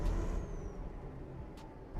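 Truck engine in Euro Truck Simulator 2 drones as a steady, loud low rumble, with a short sharp air-brake hiss near the end.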